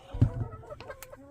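Backyard chickens cluck outside, with one louder nearby cluck followed by softer scattered clucks and short calls from the flock.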